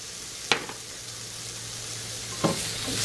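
Pork chops fry in a pan with a steady hissing sizzle throughout, broken by two sharp utensil scrapes or taps, no talk.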